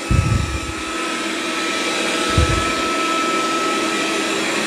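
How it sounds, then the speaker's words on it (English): A Dreame Ultra robot vacuum runs over carpet with a loud, steady, close whirring hum, with a couple of low thumps as it moves. "So it's doing a good job of vacuuming carpet."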